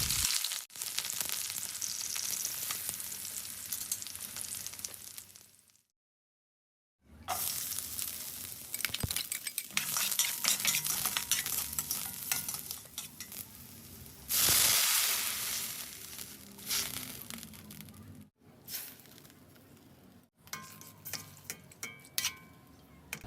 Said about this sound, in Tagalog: ipiprito ko muna yung mga talong.